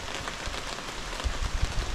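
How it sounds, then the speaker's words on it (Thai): Rain falls with wind through a bamboo forest around a hut, a steady diffuse patter and hiss with heavier low gusts building toward the end. "ตอนนี้ฝนก็ตกลงมาแล้วนะครับ"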